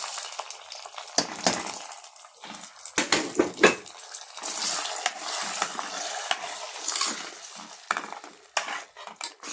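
Quiet frying of cashews in a pan, soft sizzling mixed with scraping and clinks of a utensil stirring, irregular and close, with no talking.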